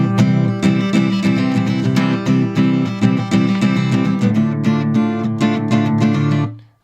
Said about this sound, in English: So this rhythm is very short and it's staccato-y, stoppy-starty.